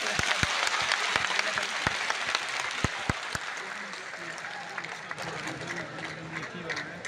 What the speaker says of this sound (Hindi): जोर से बजा दो, जोर से ताली बजाओ।